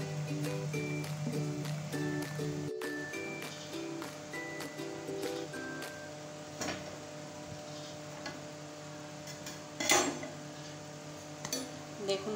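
A metal spatula knocks against a cooking pot while a tamarind dish simmers, making a few light, sparse metallic taps over a steady bubbling hiss, close and soft.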